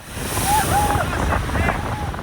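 Storm waves crash on the Istanbul coast and lodos wind roars steadily at about 80 km/h, with high warbling seagull cries and faint voices in the background.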